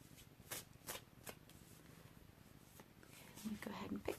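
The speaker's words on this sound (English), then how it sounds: "Go ahead and shuffle them" An Osho Zen Tarot card deck is shuffled close up, a few sharp riffling bursts followed by softer card handling, with a voice speaking quietly toward the end.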